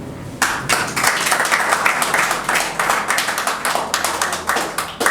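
An audience at an open mic bursts into steady, full applause that starts abruptly and keeps going with dense, rhythmic clapping throughout.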